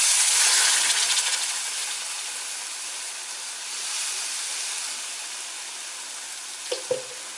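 Jaggery syrup heats in a pan for Kerala-style mango pickle, giving a steady, close steamy hiss and soft sizzle that fades slightly after the first second, with a small clink near the end.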